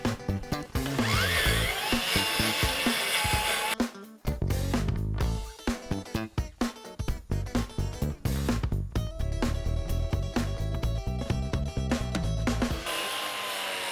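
A small, lightweight cordless household grass trimmer cuts grass in steady, close whining bursts, with brief pauses and changes in load as the head strikes the turf, ending in quiet.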